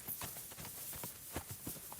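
Spectral ghost horse in a video game, hooves clip-clopping in a steady walking rhythm, several soft distinct hoof strikes over a quiet airy background.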